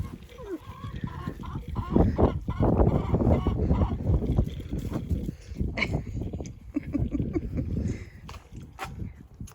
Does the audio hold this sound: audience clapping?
no